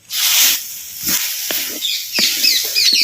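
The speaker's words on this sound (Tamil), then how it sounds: "அப்படியே எண்ணெயில் நல்லா வதக்கி" Small chopped tomatoes hit hot oil in a village-style Tamil mutton curry pan, giving a loud, close hissing sizzle that flares in several bursts as they are stirred, with no talking.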